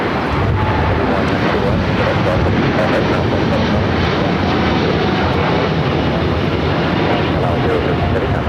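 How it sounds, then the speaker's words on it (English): A Boeing Dreamliner rolling for departure at LAX, a loud continuous jet engine roar sustained steadily throughout, with radio chatter and talk over it. "Dreamliner now rolling it down to 25 at right."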